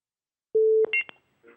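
Telephone line tones from a call-in in a morning TV news studio: a steady held tone, then a quick run of short electronic beeps, then a faint short burst.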